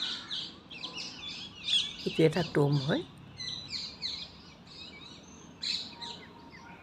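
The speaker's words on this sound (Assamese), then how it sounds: "চৰাই মাতবোৰ শুনিছেনে আপোনালোকে? ইমান ধুনীয়া চৰাই মাত" Birds chirp and sing among the trees at Humayun's Tomb in Delhi, a steady outdoor chorus of calls with a brief burst of nearby talking partway through.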